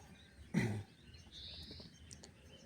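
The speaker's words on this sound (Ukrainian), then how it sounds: "Пташки співають." Faint, distant birdsong in a quiet reedy swamp while fishing: a thin whistled note and a few soft chirps, after a short dull thump near the start.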